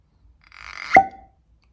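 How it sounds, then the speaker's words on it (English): Cork pulled from a bottle of Bowmore 9 whisky, a brief rising squeak of friction ending in one sharp, close pop, followed by silence. "One of the best cork pops I've had"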